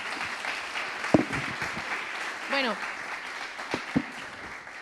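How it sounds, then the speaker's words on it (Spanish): An audience at a La Marea 100th-issue anniversary talk applauds in a steady wash of clapping while someone speaks briefly over it. "¿La queréis aplaudir otra vez?"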